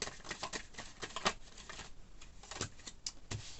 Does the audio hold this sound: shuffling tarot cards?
yes